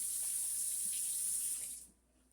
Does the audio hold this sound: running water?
yes